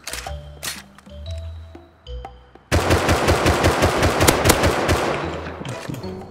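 Rapid automatic gunfire from a PvP firefight in the survival game Rust, a loud sustained burst of closely spaced shots following a few scattered single shots and game sounds.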